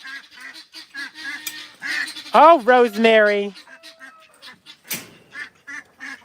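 Loud, close honking and quacking of ducks at an animal sanctuary, a burst of harsh repeated calls in the middle with scattered softer calls around it, while someone talks over them.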